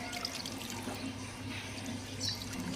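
Water is poured in small amounts into potted plants in a terrace garden, giving a soft, continuous trickle and splash that stays close and fairly quiet.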